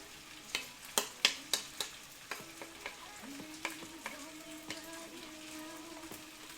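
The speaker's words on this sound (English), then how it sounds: "I'm gonna add the butter now." Butter hits a hot pan and sizzles, with sharp spattering pops at first that thin into a steady crackle, plus occasional spoon taps nearby while chicken salad is being made.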